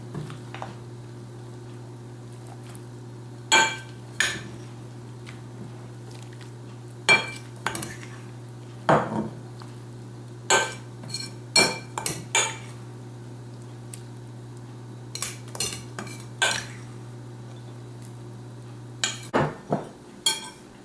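Collard greens filling being scooped into a pie dish: scattered spoon knocks, scrapes and clinks against the dish at irregular intervals over a low steady hum, with no talk.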